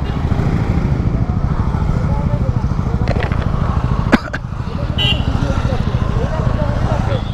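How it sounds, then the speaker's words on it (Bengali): A large group of motorcycles rides past on the road to Sajek in Bangladesh, making a continuous loud drone of close engines with a few sharp knocks and rattles mixed in. "দেখেন কি পরিমাণ বাইক।"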